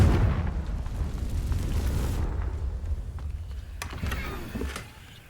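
A Confringo spell detonates in Hogwarts Legacy with a booming, rumbling explosion, followed by crackling debris and a couple of sharp pops before it dies away; no talking.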